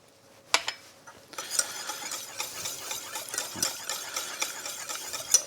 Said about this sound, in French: Il faut penser à bien fouetter jusqu'à ce que les morceaux de beurre soient fondus